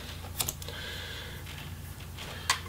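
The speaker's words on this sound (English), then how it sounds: "You're gonna need a tool to pop that connector out." A video cable connector is pried and pulled free inside a Dell G3 3579 laptop with a small tool, giving a few sharp close clicks spaced apart, the last one loudest.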